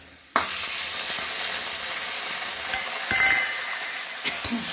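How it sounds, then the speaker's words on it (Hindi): Tomato drops into a hot frying pan and sets off a sudden loud sizzle that holds steady and close, with occasional clinks and stirring noises over it. "ठीक है, अब इसी में पड़ेगा टमाटर"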